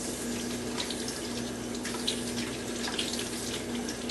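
Hands are washed with soap under a running kitchen tap, a soft, steady stream of water splashing into a sink with faint rubbing sounds, quiet and continuous without talk.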